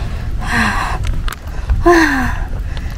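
Heavy panting from someone hiking uphill on an outdoor trail: two loud, breathy gasping breaths, close to the listener, over steady outdoor background noise.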